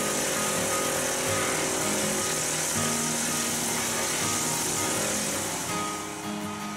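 A Titan Pro 15 hp petrol garden chipper-shredder mulcher runs continuously at full throttle, a loud, dense engine roar with grinding and rattling throughout.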